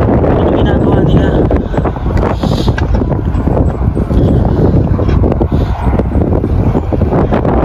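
Strong wind in Alberta, Canada buffets the microphone in a loud, constant roar, and a voice talks underneath it.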